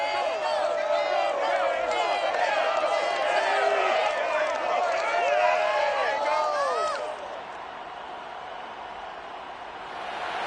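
Stadium crowd in Madden NFL 22 cheering for the Cincinnati Bengals, a broad steady roar with whistles and shouts for about seven seconds before dropping to a quieter murmur under a commentator's voice.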